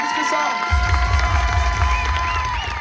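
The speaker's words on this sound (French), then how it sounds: "J'aimerais que l'on applaudisse encore bien fort nos 4 tourneurs" At a U15 final of a French competition, a crowd applauds and cheers for the four camera operators, a broad noisy roar of clapping and shouts that swells in after a brief quieter start, with a voice and whistling tones riding on top.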